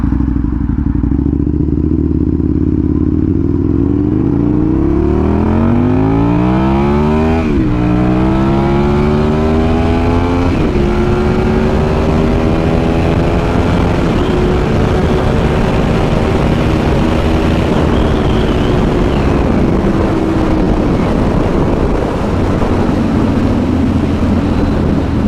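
An Aprilia RSV1000R sportbike accelerates hard past 100, its loud engine note climbing through several rising gear pulls with brief drops at each shift, close and continuous with no talk.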